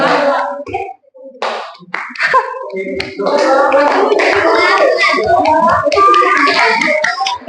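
Schoolchildren clap their hands in a classroom during a multiplication drill, a bright patter of claps that swells into sustained, dense clapping, with young voices mixed in.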